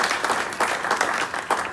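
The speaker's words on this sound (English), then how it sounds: "So give yourself a round of applause for that," Applause from a Rotary club meeting audience, a short burst of steady, fairly close clapping with a few sharper claps standing out.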